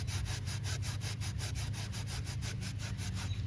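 A gray Scotch pad scrubs a rusty axle on a 2002 Pontiac Grand Am in fast, even back-and-forth strokes, close and continuous, with no talking.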